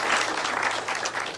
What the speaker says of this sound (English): Another applause for Dr. Kabete Desai.